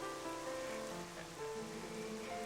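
Steady rain hisses down in the Twilight Princess game world, with faint, even patter running throughout and soft game music tones layered over it.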